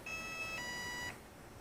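An electronic speed controller on a ZD Racing 9106 1/10 scale 4WD brushless RC monster truck boots up with a few clear, steady electronic tones in a rising sequence, close and moderately loud over faint background hiss.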